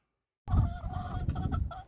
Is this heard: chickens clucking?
yes